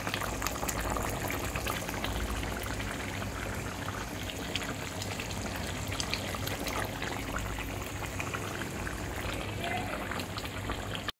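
Chitol fish muitha gravy boiling in a pan on a gas flame, a dense continuous bubbling and simmering hiss that stays steady and close for the whole stretch.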